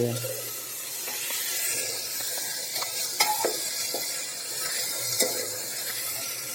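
Onions and potatoes fry in a pan for a Kathiyawadi onion-potato curry, a steady close sizzle with occasional clinks and scrapes of a stirring spoon, no voices.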